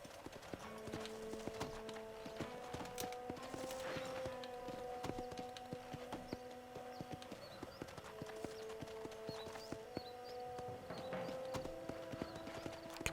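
Horse hooves clip-clop at a steady walking rhythm in the Red Dead Redemption video game, heading toward Fort Mercer, with a soft musical score running underneath throughout.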